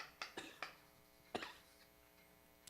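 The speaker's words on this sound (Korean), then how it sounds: "자꾸 기침이 나와요." A man coughs during a church sermon, a few short faint coughs in a quick cluster, then a pause, another pair, and one more at the end, with no speech.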